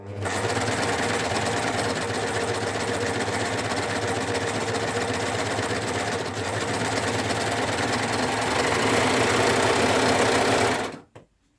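A Baby Lock Ovation overlock machine stitches a single-fold hem, running as a loud, steady, rapid mechanical whir close by for about eleven seconds before stopping abruptly.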